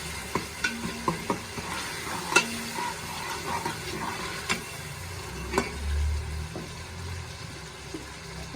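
Chicken and potatoes fry in a pan with a soft continuous sizzle, punctuated by a regular series of light clacks and scrapes from stirring, fairly quiet and close, with no talk.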